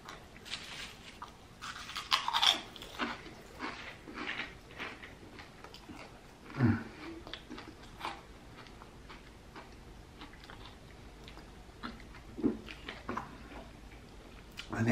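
Close chewing and biting of a Capriotti's sandwich while eating a meal, scattered wet bites and crunches in a quiet room with no talking.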